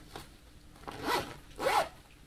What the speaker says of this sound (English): There's zippers.